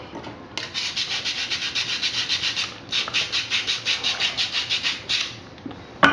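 A cleaning tool is turned inside a Moen pressure-balancing shower valve body during a cartridge repair, making rapid rhythmic scraping rubs in quick regular strokes, with a brief pause midway and a sharp knock at the end.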